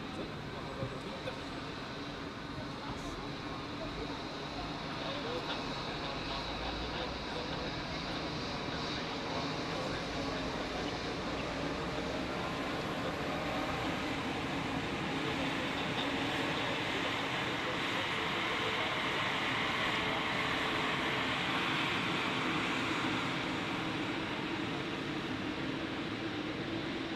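Swiss narrow-body airliner taxiing to runway 28 at Zurich airport, a faint distant whooshing jet-engine roar that holds steady and builds slightly, heard from an outdoor observation deck with voices talking nearby.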